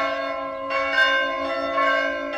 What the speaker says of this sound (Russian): но зато будут колокола